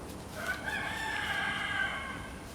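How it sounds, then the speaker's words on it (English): A single rooster crows once, a long drawn-out cock-a-doodle-doo at moderate distance, with no talking. "of course my rooster is going to have just a heyday now that we're on video"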